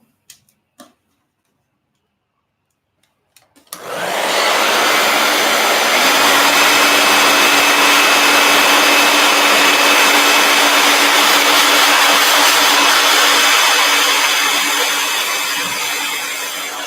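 A heat gun switches on after a few faint clicks and near-silence, then blows as a steady, loud, close whooshing roar with a thin whine, running continuously to the end.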